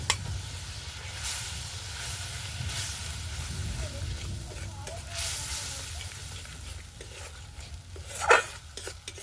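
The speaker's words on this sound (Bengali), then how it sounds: "জলটাকে একটু ফুটিয়ে নিয়েছি, এবার দেবো সর্ষে বাটাটা" Mustard paste is stirred into boiling water in a pot, a soft continuous bubbling hiss with scraping stir strokes, close by, ending in a brief sharper clatter.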